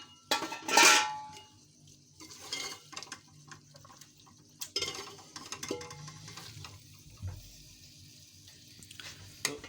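Aloo moongre curry being dished out of a pan: a sharp scrape of a utensil against metal, followed by softer scraping and clinking as the curry is served.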